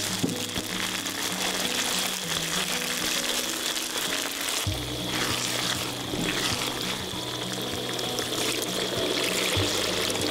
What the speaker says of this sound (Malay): Dah garing elok, boleh masukkan air 3 ke 4 cawan.